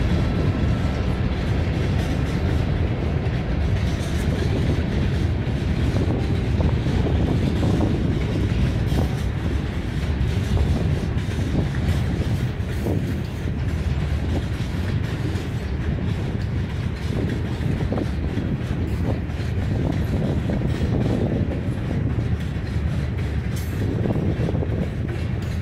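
A Norfolk Southern freight train rolls past at a meet point, a loud, continuous rumble of wheels and cars with rhythmic clacking over rail joints filling the whole stretch, no voices.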